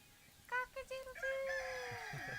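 Roosters crow at a Beltane gathering, a few short calls followed by one long drawn-out crow, clear but moderately distant against a quiet background with no talk.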